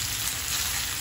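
Beef tongue browning in a hot frying pan, a loud continuous sizzle and crackle of fat, close and steady without pause, no voices over it.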